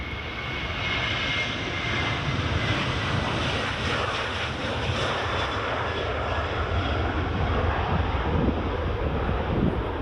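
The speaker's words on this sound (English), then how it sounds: "there's the Ryanair just rolling" A Ryanair airliner rolls for takeoff at Edinburgh Airport. A steady, broad engine roar fills the whole stretch from a distance, mixed with wind buffeting the microphone.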